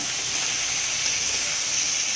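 Crab frying in a wok gives a constant, even hiss of hot oil, steady and close, with no other sounds and no talk.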